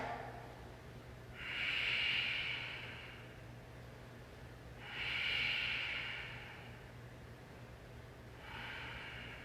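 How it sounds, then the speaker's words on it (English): Slow, deep breaths during a yoga class, three long airy exhales of about two seconds each rising and fading, close and quiet over a low steady hum. "Just 3 deep breaths here."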